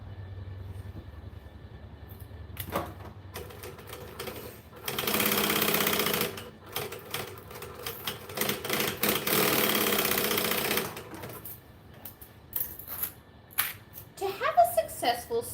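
A sewing machine runs basting stitches through fabric in short bursts, a rapid mechanical whirr that starts and stops a few times, with quiet gaps and brief speech between runs.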